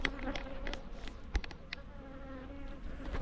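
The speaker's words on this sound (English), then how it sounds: "there's a bee just coming hassling me, telling me off because I've just disrupted life for them" A honeybee buzzes close around a beekeeper working a hive during a Taranov split on a hot day, a steady, fairly faint drone with slight wavering pitch as it circles nearby.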